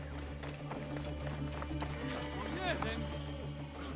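Horse hooves galloping in the video game Assassin's Creed Origins during a chase after horse thieves, a steady rhythmic run under loud game music and talking voices.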